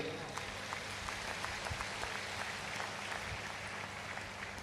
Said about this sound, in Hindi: आपको इनके लिए तालियां बजानी चाहिए